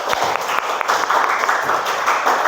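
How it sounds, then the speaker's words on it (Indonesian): A group applauding together after a class session, a brisk, dense burst of many hands clapping at close range, fairly loud and continuous. "Tepuk tangan untuk kita semua"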